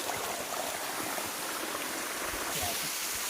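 Water rushes straight down a stream during a night outing to catch crabs, a steady close gurgling wash that stays even for the few seconds heard.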